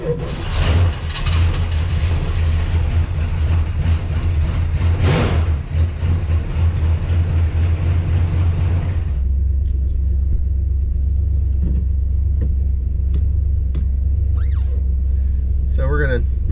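A 1968 Dodge Super Bee V8 rumbles loud and close on a cold start, a heavy low growl with throttle revs early on, then settling into a steadier idle with faint clicks and shuffling over it.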